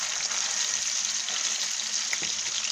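Salmon slices sear in a hot pan for a sandwich, giving a steady, close sizzle that holds evenly throughout, with a faint clink near the end and no talking.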